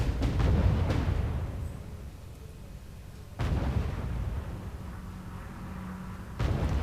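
Gunfire and artillery from the World War II strategy game R.U.S.E. come as booming, rumbling blasts, with a louder burst at the start, another midway and one more near the end, over a continuous low battle rumble.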